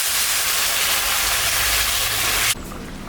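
Water poured into a hot pan of fried pabda fish with drumsticks for curry makes a loud, steady hiss and sizzle that drops off sharply near the end.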